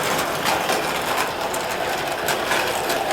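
A small electric Lionel Mickey Mouse Circus toy train runs steadily at slow speed, giving a continuous close whirring, clattering mechanical buzz with faint rhythmic ticks throughout.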